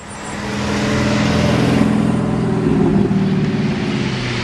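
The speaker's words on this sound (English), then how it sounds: "I'm going to pull out, and we're going to come out of this entrance to the parking lot over here to the right" A gray Porsche Cayman pulls out of a parking lot entrance ahead of a line of club cars on a charity food drive, its engine a close, steady rumble that swells slightly as it moves off, with no talk.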